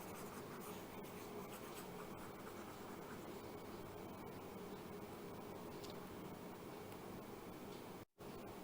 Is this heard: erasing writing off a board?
yes